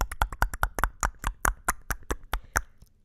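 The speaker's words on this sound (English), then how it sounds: "Everybody clap for the queen" Sharp hand claps, roughly twenty of them in a quick, uneven run for a self-styled queen, close and fairly loud, with no talk over them.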